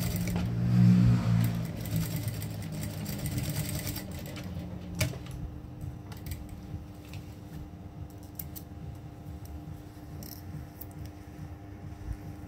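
A sewing machine stitches a side zipper into flared trousers, a steady mechanical whirr at moderate volume that tapers off, followed by faint clicks and handling noises, with no talking.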